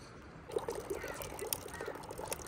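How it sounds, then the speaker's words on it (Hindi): Water poured from a jug into a funnel outdoors in wintry Manali: a faint, uneven splashing trickle with small irregular surges, continuing throughout with no clear speech. "जग भर के डालेंगे ये ऊपर में ठीक है फनल में"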